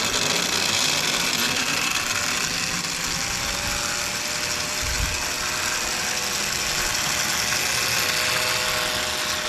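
A Lionel motorized ballast tamper toy train unit runs in low gear, giving a steady, close electric motor whir and buzz with a faint rising whine and no pauses.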